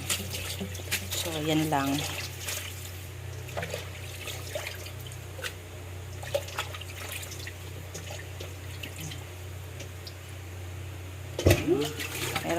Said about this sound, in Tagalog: kailangan talagang mainam na hugasan maigi ang gulay